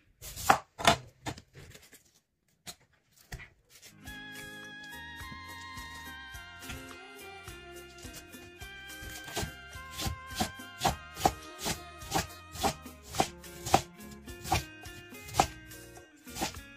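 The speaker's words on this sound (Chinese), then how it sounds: "再把白菜给它切了。" A knife chops napa cabbage into cubes on a cutting board for a steamed dumpling filling. A few sharp strokes come first, then a pause, then a steady run of crisp, rhythmic chops with faint music underneath.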